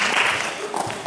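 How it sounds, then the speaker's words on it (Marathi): Audience applause at a debate: a dense, steady wash of clapping that fills the whole short moment, with no pause in the sound. "तर जोरदार टाळ्या"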